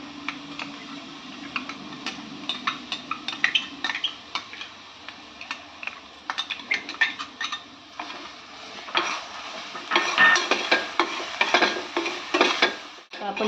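Ground masala paste stirred into a frying Malvani surmai fish curry with green chilies, a spoon scraping and clinking against the pan in irregular bursts over a soft sizzle, close and without talk.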